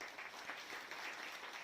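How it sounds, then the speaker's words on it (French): Applause from an audience at a business event in Pays de Grasse, a steady, moderately distant patter of many hands that holds through the short stretch. "Et je voudrais qu'on puisse les applaudir pour leur dire merci."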